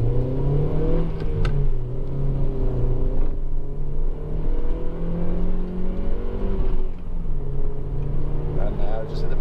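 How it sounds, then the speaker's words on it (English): A Honda Civic 1.8 i-VTEC engine drones and rises in pitch through several gear changes under hard acceleration, a continuous close rumble with brief dips between shifts. "I'm going to accelerate quite hard up through the gears"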